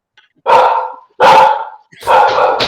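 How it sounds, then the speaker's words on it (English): A dog barks three times in close succession, loud and near, each bark a full sustained woof with short gaps between, alone without talking. "See, the dog loves that."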